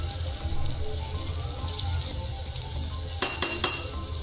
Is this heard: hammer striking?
no